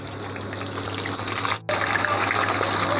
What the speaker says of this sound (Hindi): अब हम चिप्स फ्राई करेंगे